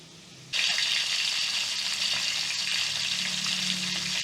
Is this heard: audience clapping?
no